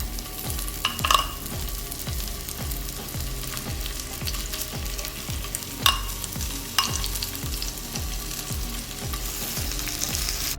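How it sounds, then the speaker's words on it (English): Pork pieces browning in a hot pan: a steady, close sizzle of frying meat with occasional crackles and pops, accompanied by a regular low repeating thump throughout. "we're gonna brown them on both sides for about a minute or two, okay? So you just add them to the hot pan."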